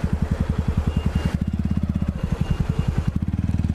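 A sports motorcycle engine idles close by with a rapid, steady thumping pulse that quickens slightly toward the end, loud and alone without talk.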